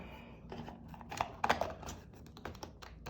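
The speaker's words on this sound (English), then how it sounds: "the sound of the clicking of the magnet it just does it for me" A magnetic-closure tarot deck box is handled and snapped shut, giving a few close, crisp clicks and taps over a couple of seconds with no talking.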